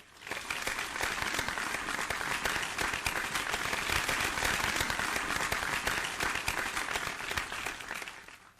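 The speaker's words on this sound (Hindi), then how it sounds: "जरा जोरदार तालियां बजाकर अभिनंदन करें" An audience gives a warm round of applause welcoming a guest at a gathering, a steady, full burst of many hands clapping that builds quickly, holds evenly for several seconds, and fades at the end.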